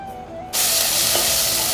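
Chopped onion and green chili frying in oil, a sudden loud burst of close sizzling that starts as the ingredients hit the pan and continues as a dense, steady hiss.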